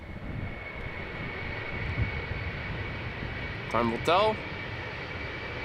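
An Embraer 190 departs Amsterdam Schiphol for Düsseldorf with a steady engine drone, while a person speaks briefly over it near the end.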